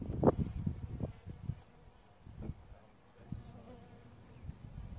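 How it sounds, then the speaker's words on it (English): Honeybees buzz in low, shifting hums while a bee package is installed, with soft bumps and handling noises scattered across the short stretch. "so that the bees will come down out of the package"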